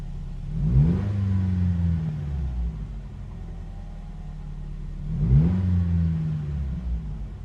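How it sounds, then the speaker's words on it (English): A truck engine revs twice with a deep rumbling exhaust through an off-road trail pipe, each burst swelling then easing back to a steady low idle. "when the truck kind of kicks down from hitting the accelerator"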